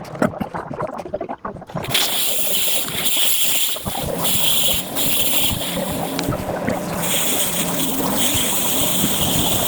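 Water spraying hard and steadily from a hose or pressure washer while washing an old AU Ford Falcon ute, a loud continuous hiss with shifting tone as the spray moves, no talking.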